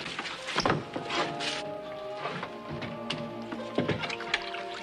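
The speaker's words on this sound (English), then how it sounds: "Willard, get the water" Water is fetched and poured in a Western TV series scene, with clunks and knocks of a vessel followed by a steady liquid pour, close and moderately loud, and no talk.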